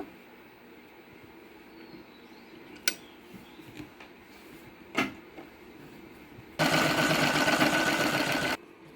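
A sewing machine stitches a saree fall along a small folded edge, running in one steady, fairly loud burst of about two seconds near the end, preceded by a few sharp clicks of handling.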